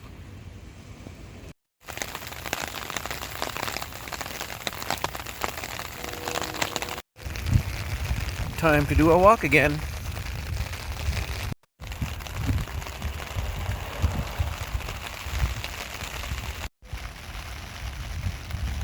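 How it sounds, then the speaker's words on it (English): Light drizzle falls in the Arizona desert, a soft, steady patter broken by a few abrupt cuts, with a brief spoken line partway through. "Here comes the rain again."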